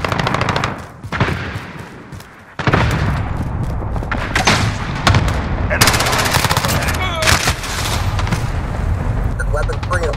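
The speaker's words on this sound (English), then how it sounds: "Ally cluster strike inbound." Cluster strike explosions land amid heavy machine-gun fire in the video game Call of Duty Modern Warfare, loud and close, with a brief lull and then a fierce burst of blasts and rattling shots.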